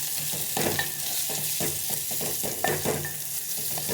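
Chopped onion and garlic frying in oil for a bhaji, a steady close sizzle with a regular rhythm of spatula stirs scraping the pan, no one speaking.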